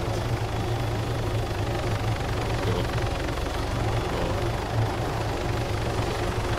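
Helicopter engine in the ArmA3 video game, a steady low-pitched rotor and turbine drone that holds loud and constant throughout, with people talking briefly over it.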